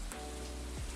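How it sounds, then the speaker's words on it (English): Rain falls steadily in the Stardew Valley farming game, a soft, even patter with no break across the moment and no voices over it. "It's a rainy day in Stardew Valley."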